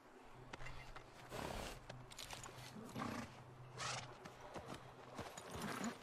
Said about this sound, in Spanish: ¿Se llama el caballo Japán?